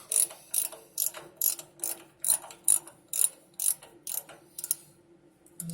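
Ratchet snugging up a power steering fitting on a 1979 Ford F150, about a dozen close, crisp clicking bursts in a steady back-and-forth rhythm, then a few softer clicks trailing off.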